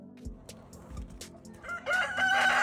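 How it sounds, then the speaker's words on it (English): Hens in a backyard coop cluck softly in short scattered bursts before a louder, sustained crow-like squawk rises near the end, all fairly close and alone without talk. "Hens cluck, squawk, and sometimes even get pretty vocal when they lay eggs or get excited."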